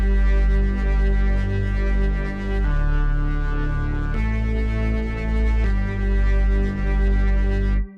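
A smooth organ preset is heavily distorted with the Decapitator plugin into a thick, buzzing, sustained wall of sound. It plays a few held chords that shift several times and then cut off abruptly.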